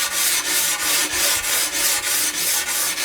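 A sanding edge rubs along a sharp tile edge in steady back-and-forth strokes, about nine even passes at close range, a dry scraping hiss with no voices.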